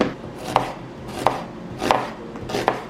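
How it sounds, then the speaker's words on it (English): A knife chops a yellow onion on a cutting board in four sharp, evenly spaced strikes, close and clear against a quiet background with no speech. "And then I'm gonna cut up some yellow onion to air fry as well."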